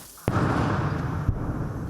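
Ukrainian mortar crews fire nearby in a forest on the front line, with a sharp close blast followed by a rolling rumble and a second thud a second later.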